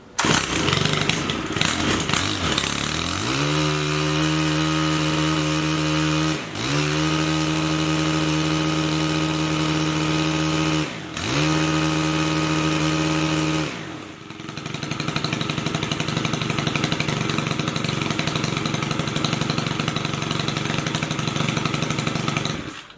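A Stihl HT 133 pole pruner with a newly replaced motor starts and settles into a steady, loud, buzzing two-stroke idle, dipping in pitch and briefly stalling twice before evening out.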